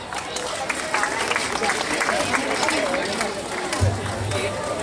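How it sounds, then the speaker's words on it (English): An audience at a youth dharma and yoga fest in Santa Clara applauds a Haryanvi folk dance teacher, the clapping mixed with crowd chatter and voices talking over it throughout. "So a big round of applause for the guru itself"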